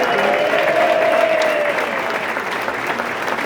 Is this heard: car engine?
no